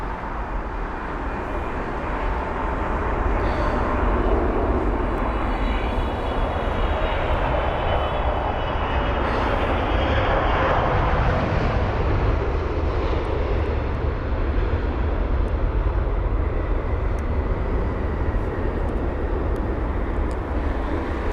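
A four-year-old Boeing 777 jet approaching London Heathrow, a loud, continuous broadband engine roar that swells and holds steady for the whole stretch, with no talk over it.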